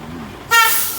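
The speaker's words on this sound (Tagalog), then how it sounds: "Busina, boss. Ang ingay." A vehicle horn blares suddenly and loudly about halfway through a drive near Alta di Tagaytay, a sustained close toot after a quiet engine hum.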